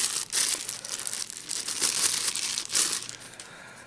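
A plastic bag crinkles steadily up close as a motorcycle helmet intercom unit is unwrapped, with bursts of rustling and crackling over a few seconds and no talking.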